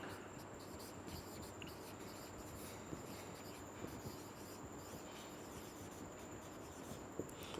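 Faint, steady scratching comes from writing on a board during a chemistry lecture, a continuous dry rasp with small ticks and no talking.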